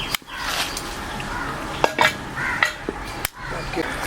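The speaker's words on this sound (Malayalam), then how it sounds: "അപ്പോൾ ചട്ടി വെച്ച് കൊടുക്കണേ" A frying pan for frying prawns for a prawn pickle set down on a kitchen stove, giving a few sharp metallic clanks and knocks near the mic amid general kitchen background noise.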